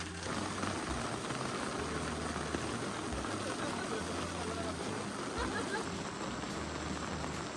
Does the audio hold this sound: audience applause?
no